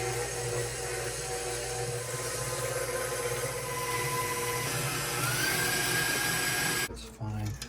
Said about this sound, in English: we're gonna mix it in our KitchenAid here